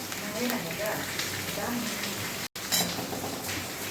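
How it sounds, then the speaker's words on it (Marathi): Green chillies roasting in a pan with a steady soft sizzle and crackle, light pan scrapes, a brief cut near the middle, while a person talks over it. "मिरच्याला छान डाग पडत आले आणि अजून थोडा वेळ आपण भाजून घेऊया"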